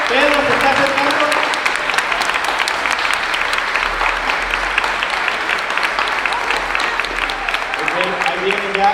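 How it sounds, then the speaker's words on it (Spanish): Audience applause greets Pedro as he arrives, a dense, steady clapping that fills the full stretch at a strong level, with a voice speaking over it near the start and again toward the end. "¿qué les parece si le recibimos con un fuerte aplauso?"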